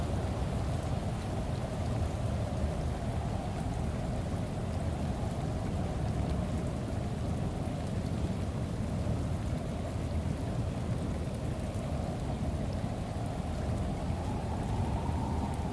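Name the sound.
rain in a video game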